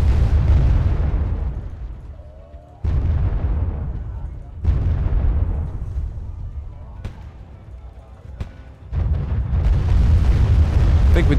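Units firing and shells exploding in the Wargame: AirLand Battle video game: a string of heavy booms, each striking sharply then rumbling away, loud and close, spaced a couple of seconds apart.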